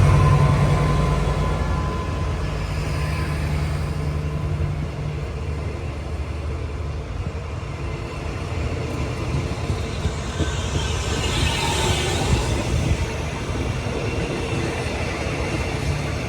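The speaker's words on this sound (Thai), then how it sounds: "ตอนนี้กำลังเคลื่อนขบวน ออกจากสถานีบ้านโป่งนะครับ" QSY 5201 locomotive hauling a special express train away from Ban Pong station, Thailand: a continuous loud low diesel rumble with steady rolling wheel noise that swells slightly as it pulls out, with no voices.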